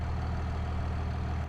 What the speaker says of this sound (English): we'll let it warm up because it's a diesel and it is cold